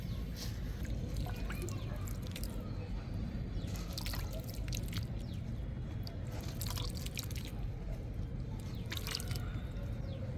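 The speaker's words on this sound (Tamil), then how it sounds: "இப்போ நம்ம இது மேலே கொஞ்சம் லேசாக தண்ணி தெளித்து விட்டுறலாம்" Water is sprinkled lightly over freshly sown green chilli seeds in a terrace-garden pot, giving a soft, continuous patter of drips and small splashes, faint and close.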